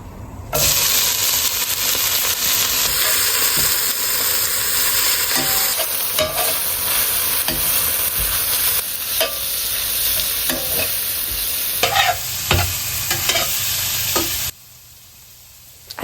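Vegetables fry in a hot pan with a loud, close, continuous sizzle, while a utensil scrapes and stirs in repeated knocks, and the sizzle drops away abruptly near the end.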